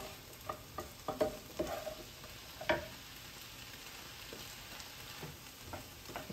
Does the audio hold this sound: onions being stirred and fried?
yes